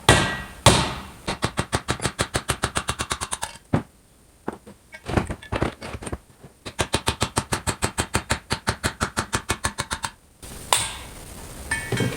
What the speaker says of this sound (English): let's go ahead and get these bushings drove out